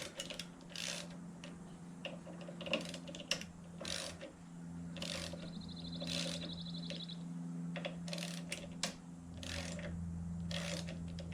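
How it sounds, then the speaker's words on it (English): A screw gun backing screws out of an ISX VGT turbo actuator during a repair: repeated short mechanical whirring bursts with ratcheting clicks, close and fairly quiet over a steady low hum. "I'm going to use the screw gun to take them out."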